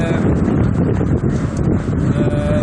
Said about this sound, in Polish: turbina się kręci dosyć szybko, wytwarzając trochę więcej hałasu